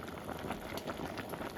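Onion, zucchini, broccoli and spices boiling together in a pot, a dense, even bubbling and fizzing with no pauses, close and steady throughout.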